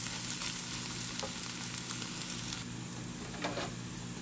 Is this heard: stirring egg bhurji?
yes